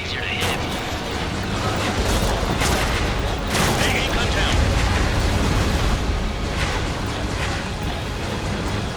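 Missile explosions in the Ace Combat 7 flight game, a steady barrage of heavy booms and blasts rolling over a constant roar, with a voice talking intermittently over the din.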